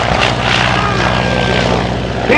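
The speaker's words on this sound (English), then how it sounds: "Look at that beautiful airplane coming in there to bomb the Baron" Propeller airplane at a flying circus airshow passing overhead, a loud continuous engine drone with steady propeller hum that fills the whole stretch.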